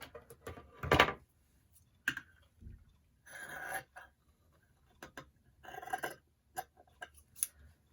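Scissors cutting a piece of cheesecloth for a mixed-media tag, a few sharp, close snips separated by quiet gaps with light handling noise.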